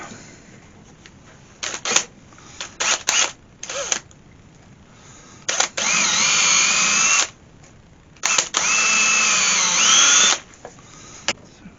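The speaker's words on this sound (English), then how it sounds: "So the first thing I want to do is drill a couple of holes in there." A power drill whirs in two long bursts through wood, with shorter trigger pulses and clicks between them, close and loud.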